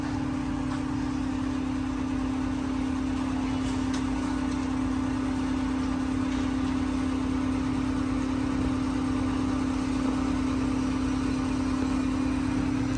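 Isuzu D-Max pickup idling as it is driven down off a long car transporter trailer, a steady even engine hum with a constant low drone throughout, fairly close and with no talk.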